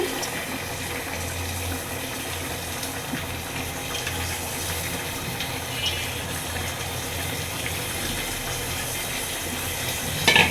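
Water pours steadily into a pan of rohu fish curry being cooked, a continuous close gushing and splashing that holds for about ten seconds with no talking.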